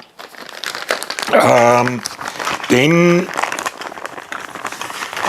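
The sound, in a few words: crinkling plastic bag being handled while unboxing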